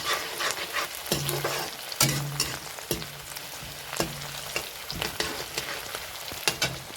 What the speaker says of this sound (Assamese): এতিয়া মই পিঁয়াজ ভাজি আছোঁ।